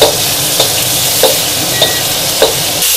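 Sambal belacan frying loudly in a hot pan, a dense continuous sizzle close by, with a spatula stirring and scraping against the pan in regular strokes roughly every half second.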